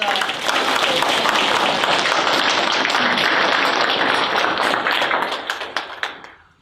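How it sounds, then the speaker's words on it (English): Audience round of applause at a women's club candidates night, steady dense clapping filling the room before tapering off into scattered claps and silence. "let's give a big round of applause for all the"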